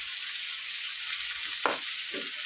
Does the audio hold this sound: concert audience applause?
no